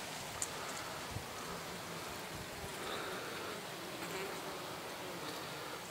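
A steady, faint buzzing hum of many bees inside a log hive, continuous and close, with no voices.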